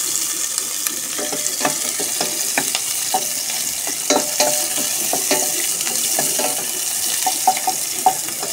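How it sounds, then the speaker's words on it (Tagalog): Food sautéing in a hot pan, a steady bed of frying sizzle with scattered crackles and stirring clatters throughout, close and fairly loud with no talking. "Ganyan lang, gisa-gisa lang natin."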